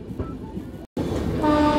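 An Intercity superfast express, the 12796 Lingampalli–Vijayawada service, runs at speed with a steady, loud rolling rumble. The sound cuts out briefly near the middle, then returns with a sustained tonal hum riding over the wheel noise.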